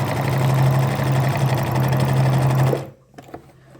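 Sewing machine running steadily while stitching the seam of a basic skirt, a close, loud continuous motor hum with rapid needle chatter for almost three seconds before stopping abruptly, followed by faint handling noises.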